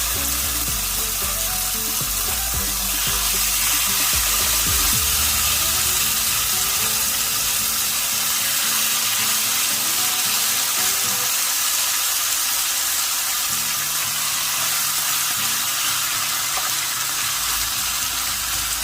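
Carne al pastor frying over high heat in hot melted pork lard, a loud continuous hiss and crackle with some clattering of stirring early on, no talking.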